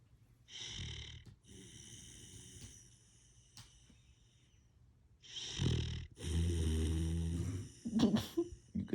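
Close snoring from a husky puppy lying on a bed: a short rasp, a quiet pause, then a longer, louder pair of throaty snores and a few sharp snorts at the end.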